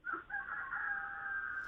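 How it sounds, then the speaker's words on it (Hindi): A rooster crows once in a long, drawn-out call, clear and fairly close against a quiet background. "अच्छा, मुर्गी की आवाज़ अभी।"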